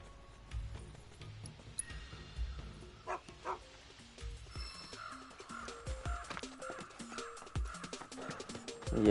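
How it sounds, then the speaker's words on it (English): Dogs bark in the video game Final Fantasy 7 Rebirth, a run of short sharp yips and woofs scattered at an uneven pace over quiet game ambience. "I love defending dogs in this game."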